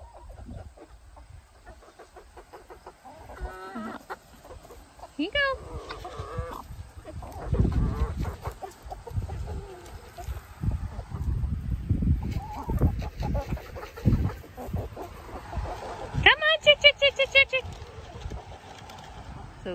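Backyard chickens and a rooster cluck and call in bursts, close by, while a person repeatedly calls to them over the birds.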